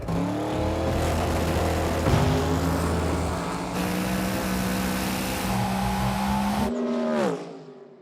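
Fireball Camaro race car launching from the line and spinning its tires, a loud sustained engine roar with rising pitch under load, then a sharp drop-off as the car pulls away into quiet.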